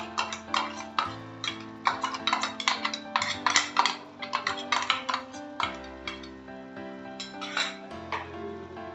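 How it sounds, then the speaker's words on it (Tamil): A spoon stirs coconut-cashew paste into thokku in a pan, making a steady series of light clinks and taps against the metal, close and fairly quiet, with no talking. "இப்போ இதில் சேர்த்து நல்லா கிளறி விட்டுக்கலாம்"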